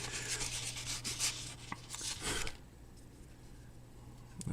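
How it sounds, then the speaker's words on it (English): A small model part is sanded by hand with quick, scratchy rubbing strokes for about two and a half seconds, then the sanding stops, leaving a quiet room with faint handling noise. "we're just giving some sanding to the part there, the little piece that I put across"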